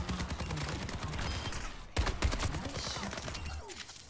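Rapid gunfire in Overwatch 2 strikes training bots with dense, quick bursts of sharp shots, swelling briefly into louder cracks partway through, while a voice talks faintly underneath.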